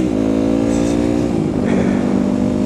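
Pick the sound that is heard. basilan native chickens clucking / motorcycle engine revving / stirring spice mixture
motorcycle engine revving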